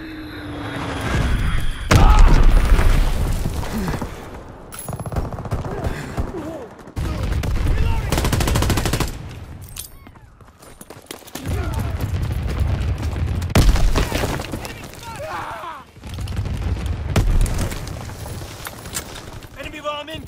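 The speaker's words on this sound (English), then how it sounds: "Enemy bomb incoming! Get to cover! Dropping Azon bomb!" Bomb explosions and heavy gunfire in Call of Duty WWII, loud booms and rattling volleys in repeated waves, with voices shouting over the battle.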